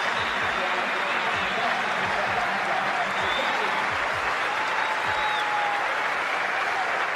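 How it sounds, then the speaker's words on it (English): A cricket crowd at the Sydney ground applauding South Africa's Graeme Smith as he walks out to bat with a broken hand, a dense, sustained wash of clapping throughout with a commentator's voice faintly underneath. "And the Sydney crowd really appreciating Graeme Smith's courage to come out and bat for his country."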